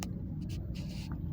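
Road traffic rumbles steadily in Islamabad, a low continuous wash of passing cars with a few brief hissing swells of tyres on the road.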